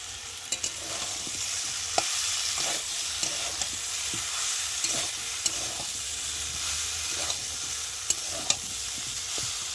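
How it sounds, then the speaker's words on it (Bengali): Fried small soybean chunks are stirred and sautéed with spices in a pan for a vegetable curry, giving a steady sizzle with repeated scraping knocks from the spoon, close and without speech. "আর এবার দিয়ে দেবো ভেজে রাখা সয়াবিনগুলো, মশলার সাথে একের সাথে কষিয়ে নেব।"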